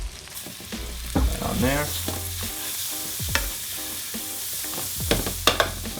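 Vegan butter sizzles in a hot pan amid frequent stirring and clattering of utensils, a steady frying hiss running under brief spoken words throughout.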